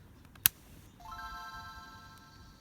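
A Game Boy Advance switches on with a click, then its startup chime rings out as a bright, clean tone that holds and slowly fades, heard alone at a modest level.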